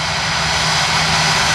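Airliner jet engines roar loudly and steadily at Orlando International Airport (MCO), a continuous close whine and rumble of an aircraft moving fast along the runway or taxiway, heard alone without talk.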